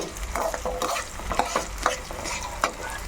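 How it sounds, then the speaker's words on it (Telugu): Coriander seeds stir-fry in hot oil for a curry leaf spice powder, with a continuous close crackling sizzle and repeated scraping strokes of a spoon against the pan; no voices. "ధనియాలు వేస్తున్నాను ఆయిల్ అయితే హీట్ అయిపోయింది"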